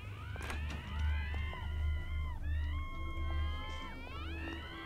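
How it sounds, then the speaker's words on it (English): Shrill, wavering cries in the game We Happy Few, several rising and falling screams layered over a low droning rumble, continuous and fairly loud throughout. "My god, they won't stop screaming!"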